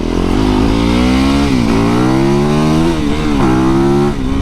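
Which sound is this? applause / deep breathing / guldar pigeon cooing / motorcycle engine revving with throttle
motorcycle engine revving with throttle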